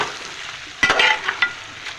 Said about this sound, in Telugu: ఇది అంతా నూనెలోనే రోస్ట్ చేయాలి.